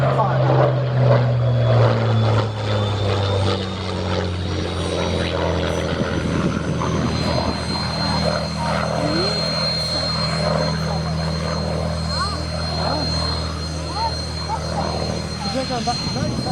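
A helicopter's steady rotor thrum and engine whine pass by at the Shuttleworth Fly Navy 2022 airshow, loud and sustained, while people talk over the noise.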